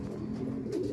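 A pigeon gives a single low, soft coo, close and steady for about a second, with no other sounds over it.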